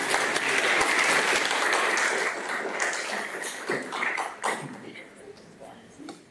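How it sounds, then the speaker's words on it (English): Applause from an audience at a chemistry conference talk, a dense, loud patter of clapping for a volunteer that gradually thins and fades, with a few scattered claps and faint voices near the end. "Can we have a round of applause, please, for Molly?"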